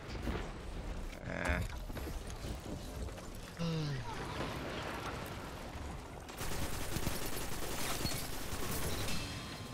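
Auto rifle fire in Destiny during an Iron Banner match, dense bursts of shots mixed with game effects and a rising roar at the end, moderately loud, with talk over it.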